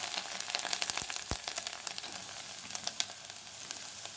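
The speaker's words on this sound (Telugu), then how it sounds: "ఇదిగోండి నేను కొబ్బరి వేసేస్తున్నాను." Grated coconut tipped into a hot pan of tempering for a coconut and toor dal curry, giving a steady close sizzle with light crackles and a couple of brief scraping stirs, no voices.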